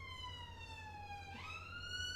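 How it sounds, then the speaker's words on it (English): A wailing ambulance siren from the city-building game Cities: Skylines II sweeps smoothly in pitch, faint and steady with no other sound over it. "Oh, it's an ambulance."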